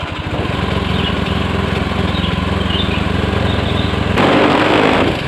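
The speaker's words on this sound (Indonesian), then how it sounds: "Kita nyalain mesinnya biar setrum voltase stabil." A 2014 Honda Scoopy FI scooter with a fault that cuts out its starter runs close up. The engine holds a steady, buzzy idle, then rises louder near the end.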